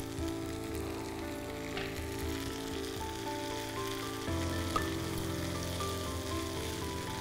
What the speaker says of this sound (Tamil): அடுத்தது வந்து இந்த வேக வச்ச பருப்பு எல்லாத்தையும் சேர்க்குறேன்